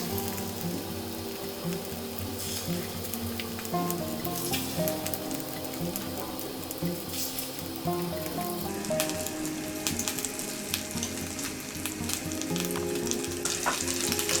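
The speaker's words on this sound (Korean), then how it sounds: "뜨거운 팬 센 불입니다. 네, 식용유를 두르고요. 이제는 약불을 유지를 한 상태에서 하나씩 하나씩 올려줍니다" Pollock fillets coated in flour and egg fry in oil in a hot pan over low heat, giving a steady, dense sizzle with crackling pops throughout, close and continuous with no voices.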